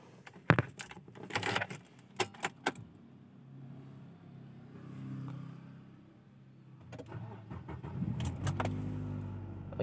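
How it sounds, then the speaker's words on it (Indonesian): Keys jangle loudly at the start, then a Nissan Grand Livina engine cranks and settles into a low steady idle, with more key and cabin clicks near the end. "yuk kita langsung nyalakan mobilnya"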